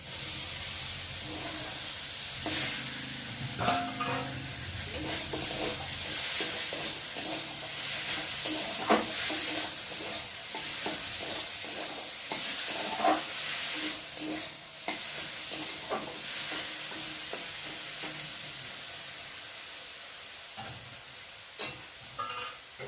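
Boiled soybeans fried and stirred in spice masala for aloo dum, a soft steady sizzle and hiss with frequent stirring clinks and scrapes, fairly quiet, with faint music underneath.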